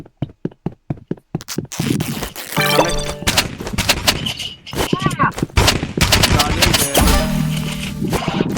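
In the Roblox game The Rivals, a paintball gun fires a quick series of sharp, evenly spaced pops, followed by dense in-game gunfire, effects and chimes, with players talking over the action.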